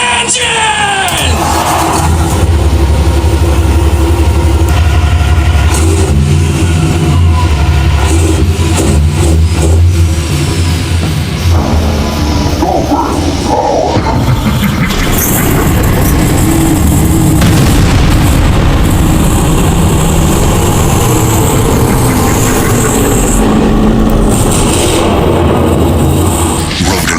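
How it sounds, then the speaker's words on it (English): Toy car engine sound effects from a 1985 Tyco road-and-rail racing set, a loud starting rumble and repeated revving bursts with booms, mixed under continuous music and announcer talk throughout. "Gentlemen, start your engine!"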